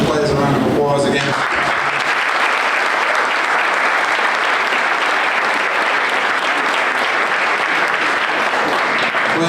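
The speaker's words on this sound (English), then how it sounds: "So give the players a round of applause again." A crowd at a football club's brand unveiling event gives a dense, loud round of applause for the players, sustained clapping filling the whole stretch after a brief voice at the start.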